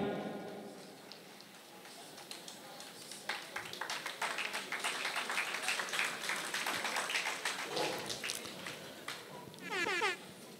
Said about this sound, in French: Est-ce qu'on peut applaudir pour Monsieur Aïnou?